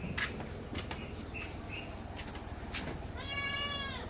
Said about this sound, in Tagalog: ito yung mga kambing natin